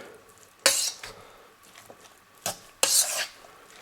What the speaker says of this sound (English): now I'm just going to mix it all together